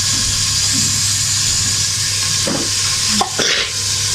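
Masala for biryani frying in a pan, an even loud sizzle with a few spoon scrapes and knocks toward the end, close up.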